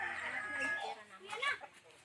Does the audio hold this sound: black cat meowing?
no